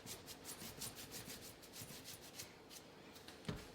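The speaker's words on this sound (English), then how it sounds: "Just brush off all the excess flour." Soft, steady rubbing and brushing strokes as excess flour is swept off laminated puff pastry dough, a close, quiet scratchy texture repeating for several seconds with one slightly sharper tap near the end.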